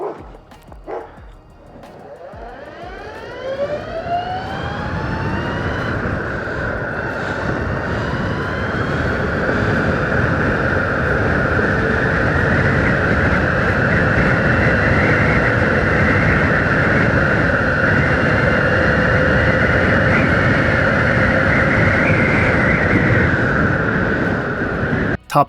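Acedeck Stella Blizzard Pro electric shortboard skateboard with a 100-amp drive, riding fast. A high motor whine sweeps up in pitch as it accelerates, then holds steady over a continuous rolling rumble, close and loud.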